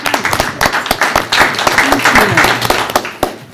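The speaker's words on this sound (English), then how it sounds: "Let's give a round of applause for our next." A school board meeting audience applauds school winners with a brief burst of dense, fairly loud clapping that continues under a speaker's voice before tapering off.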